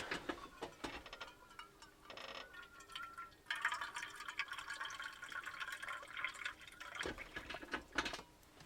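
Water pours into a container in a few close, trickling bursts, the liquid sound rising in pitch as it fills.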